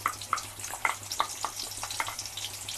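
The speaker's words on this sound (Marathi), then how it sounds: "तर हे तेल गरम झालंय, आता आपण याच्यात हा कांदा टाकून घेऊ।" Chopped onion sizzles in hot oil for a Malvani masala tempering, with soft crackles and pops scattered irregularly over a quiet hiss at close range.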